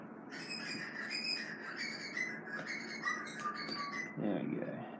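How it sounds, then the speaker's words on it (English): Butcher birds sing in the background, with clear, repeated whistled and warbling notes carrying through a quiet outdoor setting. "You guys can probably hear the butcher birds in the background."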